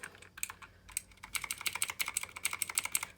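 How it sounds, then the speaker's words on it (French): Rapid clicky keystrokes on a white Drivo Calibre RGB mechanical keyboard with blue switches, sparse taps at first, then a dense, steady burst of typing, close and crisp with no talking. "c'est un clavier switch bleu"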